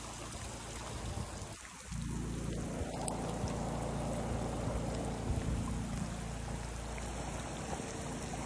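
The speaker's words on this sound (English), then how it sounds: "It's starting to rain again." Monsoon rain falling on a rural homestead, a dense, steady hiss of rain and running water that swells after a brief dip and continues unbroken, with no talking.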